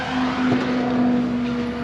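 Loud car exhaust with decat downpipes and a resonator, holding a steady, droning idle with a strong low hum close to the microphone.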